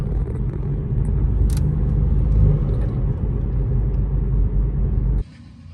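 A BMW F30's engine runs with an upgraded aluminum intake clip fitted, giving a steady, close low rumble with no scratching, which drops off sharply near the end.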